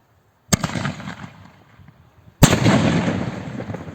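Two loud, sharp New Year's Eve firework bangs, each followed by a rumbling, crackling echo that slowly fades.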